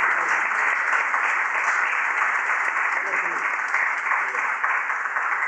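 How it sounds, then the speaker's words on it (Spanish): Sustained applause from a conference audience in a Peña de Jaén hall, a dense, even rattle of many hands clapping at a steady level for several seconds without talk over it. "al que les pido un fuerte aplauso."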